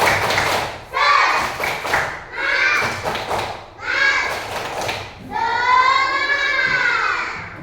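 Children in an Indonesian primary classroom chant together in loud voices while clapping in a set rhythm, in several bursts separated by short pauses, with the last phrase held longest.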